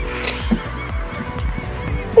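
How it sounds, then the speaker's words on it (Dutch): A busy chorus of honking birds, like a flock of geese, calls continuously and fairly loudly with overlapping, repeated honks. "En jullie horen nu heel veel vogels"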